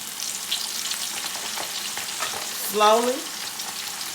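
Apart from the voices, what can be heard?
chicken wings deep frying in oil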